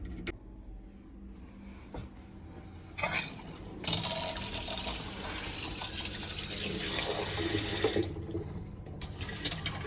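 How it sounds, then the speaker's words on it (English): Gravity-fed domestic hot water gushing from a tap after the isolation valves are opened: quiet at first, then a sudden loud, steady rushing flow that holds for several seconds before easing slightly. "that, my friends, is some terrible gravity-fed hot water"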